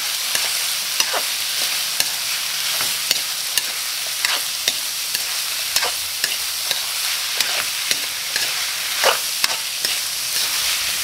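Radish and carrots sauté in an oiled pan for bopis, giving a steady sizzle broken by repeated scraping stirs of the utensil, close and alone with no talking.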